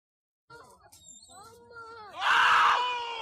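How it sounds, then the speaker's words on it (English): Screaming plays back from a video game clip, starting with shouted and sliding voice sounds and rising into a loud, sustained shriek at the end. "I love the screams."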